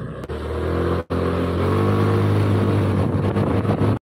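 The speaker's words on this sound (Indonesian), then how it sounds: "ntar beli deh sambil ngetes motor ya" A Honda Beat ESP motorcycle engine runs steadily and loud throughout a test ride, with a droning hum and wind rush. It cuts briefly near the start and stops abruptly at the end.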